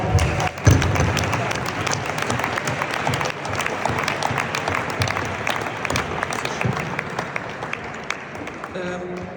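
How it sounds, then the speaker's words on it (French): Crowd applause for the parents at a youth sports presidents' and tribute gathering, with dense steady clapping and a few thumps, sustained at moderate level for the whole stretch and tapering near the end. "Peut-être aussi un petit applaudissement pour les parents."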